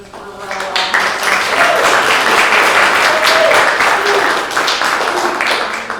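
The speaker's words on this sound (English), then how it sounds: "Let's everybody give a very warm round of applause and congratulate Christopher Rowe." Warm audience applause greets author Christopher Rowe at a book conversation event, a dense, steady round of clapping that swells quickly and holds for several seconds before easing, with a few voices mixed in.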